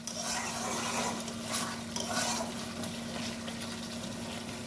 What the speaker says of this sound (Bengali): কড়াইয়ের গাটা এইভাবে কাচিয়ে নিতে হবে